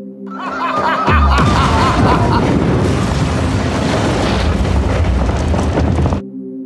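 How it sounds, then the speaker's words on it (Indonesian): A loud boom from a film scene erupts suddenly, filling the space with a dense, rumbling blast that rolls on for several seconds before cutting off, with laughter-like crowd noise mixed in. "tiba-tiba saja terjadi ledakan yang menghempaskan semua orang"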